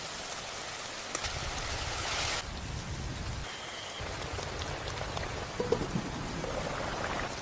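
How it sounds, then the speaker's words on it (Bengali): Heavy monsoon rain pours outside a rural Bengal village home on a rainy afternoon, a thick, even downpour roar with occasional drips and faint rumbles. "বাইরে বৃষ্টির ঝমঝম শব্দের সাথে"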